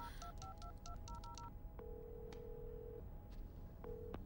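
A telephone number is dialed as a quick run of touch-tone beeps, then a long ringback tone sounds and repeats after a pause while the call goes unanswered. Background noise runs steadily throughout.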